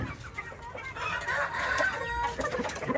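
A young Shamo or Aseel stag rooster crows and clucks nearby among other chickens at a farm in the Philippines, the rough, strained calls running almost continuously with overlapping fowl noise in the background.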